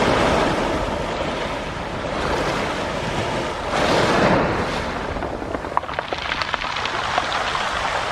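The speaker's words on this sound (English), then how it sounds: "I love the rat tap tap tap tap as the pebbles tumble back into the sea." Waves wash in and drag pebbles back into the sea on a Cornish beach, a steady broadband surf roar with surges, wind rumbling on the microphone and faint clicking rattles of tumbling stones in the later part.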